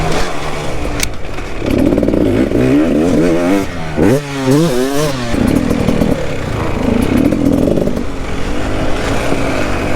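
Small KTM 65 motorcycle engine, close and loud, buzzing steadily then revving up and down in quick, rising and falling bursts.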